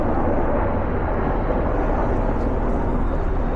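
A steady, loud rumbling roar of a helicopter passing overhead in Manhattan, dense low-frequency noise throughout with no voices.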